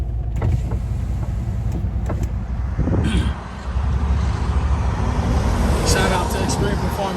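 A 2008 Ford F-150 with a 5.4 Triton V8 and a muffler delete gives a deep, steady exhaust rumble that runs throughout, close and loud, with a brief dip midway and people talking over it.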